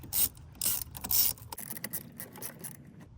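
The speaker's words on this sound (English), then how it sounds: "So go ahead and release both of these clamps" Hose clamps being released on an Acura ZDX intake manifold: a quick run of sharp metallic clicks and ratcheting snaps, close up, followed by softer scattered taps and fiddling, with no speech.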